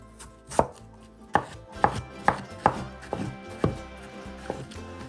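A knife chops peeled vegetables in a Konkani vegan kitchen, roughly cut with about eight sharp, fairly loud strokes at an uneven, unhurried rhythm against a quiet background.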